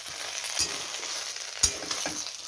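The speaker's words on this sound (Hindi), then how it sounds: "देखिए यहाँ पे बनाना का फ्राई हो रहा है" Banana slices fry quietly in a pan with a soft, steady sizzle and a couple of sharp utensil clicks, with no voices.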